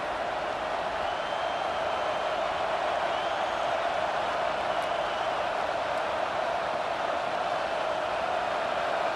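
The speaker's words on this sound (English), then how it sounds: "Here comes this home crowd as the defense tries to get off the field on 3rd down." Steady roar of a home stadium crowd cheering in the College Football 25 video game during a Florida vs Texas matchup, a dense continuous wash of crowd noise with no talk.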